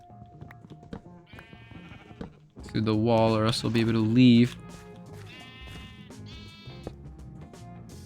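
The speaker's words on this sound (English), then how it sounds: "These sheep sure are fucking loud." Loud, wavering sheep bleats from the game Minecraft ring out in a couple of bursts, the middle one strongest, while a person talks in between.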